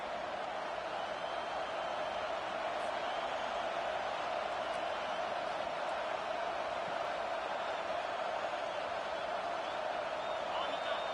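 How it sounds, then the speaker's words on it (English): Steady, dense roar of a stadium crowd in an EA college football video game, with FIU playing, a constant wash of cheering at moderate level throughout with no break. "listen to this crowd noise. This stadium is vibrating."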